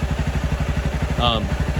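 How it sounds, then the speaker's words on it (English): A motorcycle engine running on a very lean gasoline mixture with restricted airflow putters in a rapid, even exhaust rhythm, close and steady, with a brief high whistle partway through. "you can hear the difference in the exhaust of the bike"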